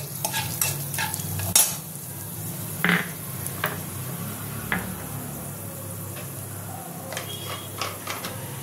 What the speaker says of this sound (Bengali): এবার আমি এই তেলে মেথি ফোড়নটা দিয়ে দেবো, মেথিটা আর শুকনো লঙ্কাটা দিয়ে দেবো।